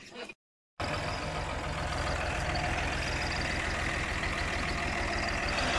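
A Raji 65-horsepower tractor engine runs steadily and loudly on a farm where a Turkish Minos reaper binder is at work, a dense continuous rumble after a brief cut near the start, with no talk.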